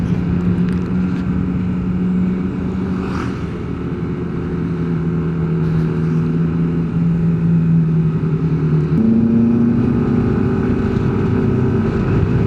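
Yamaha NMAX Techmax 155 scooter accelerating in Y-shift mode, a steady droning engine note rising in pitch with a step up near the end, loud and close with wind rush, no talk.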